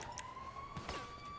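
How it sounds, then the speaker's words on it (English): In the GTA Online video game, a police car siren wails as a steady rising tone with fainter sweeping harmonics, heard at moderate distance over low background noise. "Police are coming."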